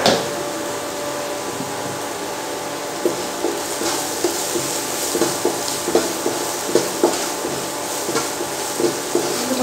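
Spices for dal (garam masala and red chilli powder) roast in a hot pan, giving a steady sizzling hiss with faint, intermittent stirring scrapes and taps, close and continuous without speech.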